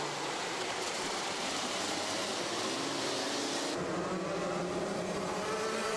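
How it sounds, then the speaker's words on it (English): Racing karts drive around an outdoor kart track, engines droning and shifting pitch as they pass, steady and moderately distant with no talk. "Buck hooking the curbs through Sunny Bend as he comes down the hill and towards the final corner"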